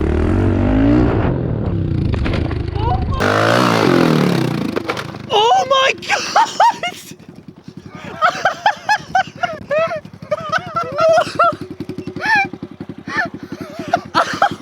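A dirt bike motorcycle engine revs and roars loudly over backyard dirt jumps, rising then cutting out, followed by excited shouting and talk between riders.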